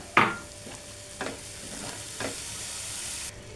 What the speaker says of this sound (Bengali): রসুনটা দিয়ে একটু নাড়তে হবে